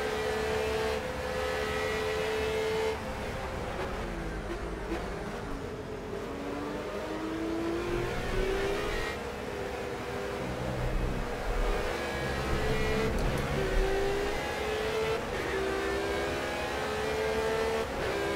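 Radical SR3-RS race car engine in Project Cars at Imola, loud and continuous, with rising revs and repeated gear-shift steps as it accelerates, heard alone.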